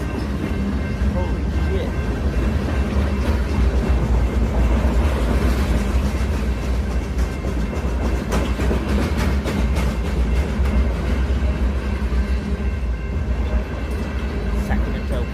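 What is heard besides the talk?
train passing at a crossing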